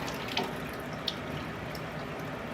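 Water trickles and drains from an opened utility sink faucet after the house main is shut off, a soft steady hiss and gurgle with a couple of faint drips, no talking.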